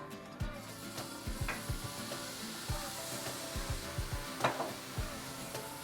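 Diced tomatoes being stirred into a hot sizzling pan, a steady frying hiss with repeated scraping stirs and soft knocks of the spoon, close and moderately quiet.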